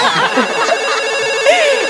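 A loud electronic telephone ringtone plays on a comedy stage show, a repeating warbling melodic tone that runs steadily for about two seconds, close and clear.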